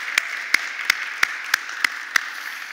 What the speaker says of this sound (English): Let's give them a round of applause and thank them for it.